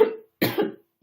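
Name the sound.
cough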